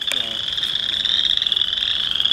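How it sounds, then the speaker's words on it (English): Many frogs in a wetland croak together in a dense, continuous high-pitched trilling chorus, loud and steady throughout, with one nearer croak at the start. "Still trying to spot one of these frogs"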